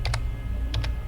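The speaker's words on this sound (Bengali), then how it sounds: "এন্টার দিলাম" Computer keyboard keys are struck in two quick pairs of sharp clicks, with the Enter key pressed, set against a low steady hum, with no talking.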